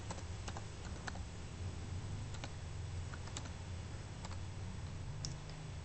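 Fingers type on a computer keyboard in a quick, uneven patter of light key clicks, close and continuous over a low background hum, with no speech.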